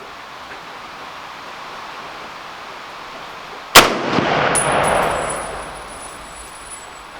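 An M1 Garand rifle firing 150 grain rounds at an outdoor range: a single sharp, loud shot cracks out of steady background hiss, followed by a long rolling echo and a faint high ringing tone.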